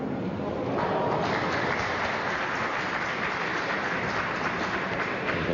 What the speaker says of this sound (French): Les applaudissements que vous attendez